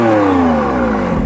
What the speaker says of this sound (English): this car is also fitted with a sports exhaust system